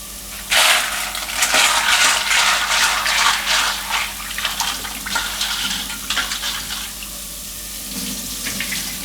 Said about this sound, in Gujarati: પાસ્તા છે એને આ રીતે મોટા વાસણમાં નાખીને એકવાર ધોઈ નાખીશું